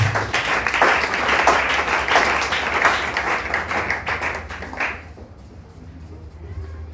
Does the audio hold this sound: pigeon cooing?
no